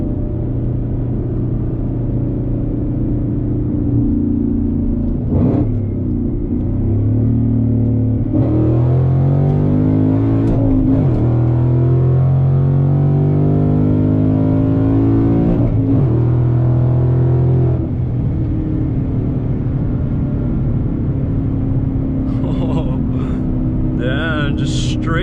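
A 2018 Mustang GT pulls hard in second gear on Mickey Thompson ET Street SS tires, its engine note rising loud and steady over about ten seconds before easing off, with a rumbling idle before and after.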